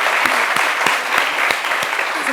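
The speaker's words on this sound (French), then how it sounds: "Applaudissez." A television studio audience applauds loudly and continuously, with a few sharper claps standing out at a roughly regular beat.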